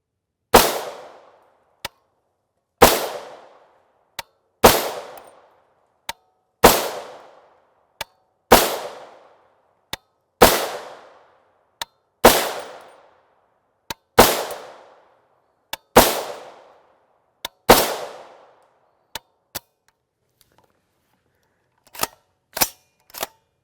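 A 16 inch PSA build rifle fires 300 Blackout 150gr FMJ rounds: about ten sharp, loud shots spaced a couple of seconds apart, each with a fading echo, followed by quieter metallic clicks.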